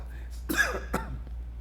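Someone clears their throat with two short, rough coughs close to the microphone.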